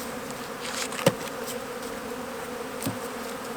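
Honey bees hum steadily at an open hive in winter, a continuous close drone with two brief clicks or knocks rising above it.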